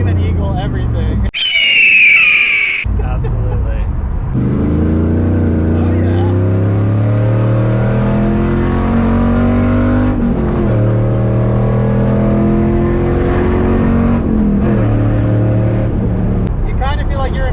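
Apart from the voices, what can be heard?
1999 Pontiac Trans Am 30th Anniversary engine revving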